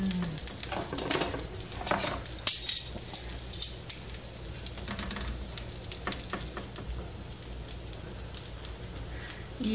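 Plant-based bacon strips frying in a pan, a steady close sizzle with scattered pops and faint scraping as the pieces are turned, no talking.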